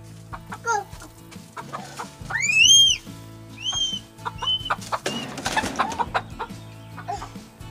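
Chickens at a coop, heard as several close, loud clucks and rising squawking calls in irregular bursts, with a rustling scuffle partway through.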